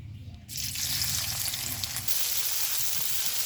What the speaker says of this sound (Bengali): দিয়ে দিব কেটে রাখা পেঁয়াজ